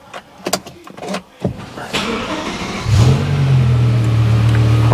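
BMW M6 V10 with a titanium exhaust line, warm engine: a few sharp clicks and knocks, then the engine fires and settles into a loud, steady close-up idle drone.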